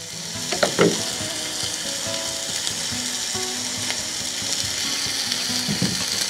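Food sizzles steadily in a pan at an outdoor lunch stop on a bush day drive near Bombah Point, with a few brief clatters early on.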